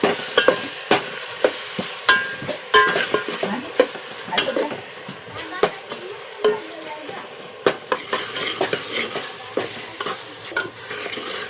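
Onions frying in a pan with a continuous soft sizzle, punctuated by repeated sharp clacks and scrapes of stirring against the metal close by.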